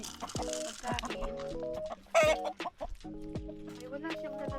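Chickens cluck and murmur on a New Zealand farm, with repeated short calls close by and one louder squawk, while people talk over them.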